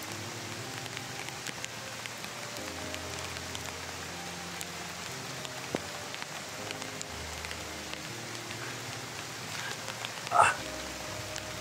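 Rain falls steadily as a continuous soft hiss of drops on surfaces, with one brief louder knock near the end.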